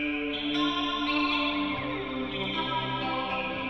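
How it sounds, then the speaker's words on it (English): Electric guitar run through a flanger effect in Logic Pro X, a sustained chordal tone with a sweeping, swirling, jet-like shimmer and a hint of feedback, steady and full throughout with no voices. "Let's take a listen to the flanger and see how it might affect the electric guitar."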